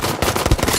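Sniper rifle fire in the shooter game Battlefield 5, loud sharp cracks in quick succession with a heavy booming report, close and alone without talk.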